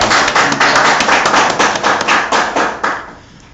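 Group of people clapping together in welcome at the opening ceremony of a cognitive coaching expert course, a dense burst of hand claps with rhythmic peaks that fades toward the end.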